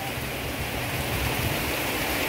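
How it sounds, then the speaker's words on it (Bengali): Heavy rain pours outside a village kitchen where chicken cooks on a wood-fired clay stove, a steady dense hiss with no voices. "হিউজ পরিমাণ কিন্তু বৃষ্টি হইতে আছে।"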